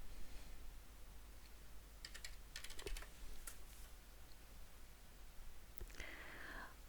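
Keystrokes on a computer keyboard typing a chat message in an online drawing game, a few quick bursts of faint clicks scattered over a quiet background hum.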